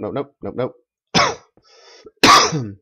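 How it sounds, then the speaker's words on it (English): A person coughs while narrating a block-building video game. Short vocal sounds come first, then two sharp, loud coughs follow, each close to the microphone. "Oh, excuse me. I do apologize for that. I hate coughing."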